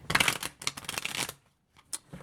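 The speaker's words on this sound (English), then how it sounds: "The cards was shuffling upside down." Tarot cards shuffled by hand in quick bursts of riffling and sliding, close and crisp, with a short pause near the end before a final brief flick.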